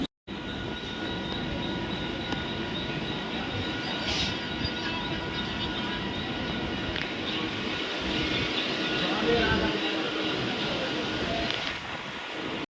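Mumbai local train in motion, heard from on board as a steady loud rumble of wheels and carriages, with rattling and faint squeals running throughout.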